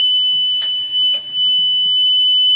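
A Silent Knight 5204 fire alarm control panel system sounds a loud, steady electronic alarm tone, continuous and close throughout, with two brief clicks.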